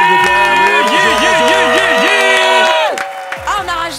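A loud burst of studio audience cheering and applause rises over bright sustained music, then fades into scattered shouts and voices.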